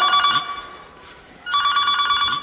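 A telephone bell rings loudly in two long electronic bursts separated by a short pause.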